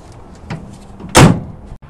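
Rear tailgate of a 2020 Toyota Tundra Platinum CrewMax opening on its slow-open damper: a single firm mechanical thunk and release, close and moderately loud, after a faint earlier click, with no talking.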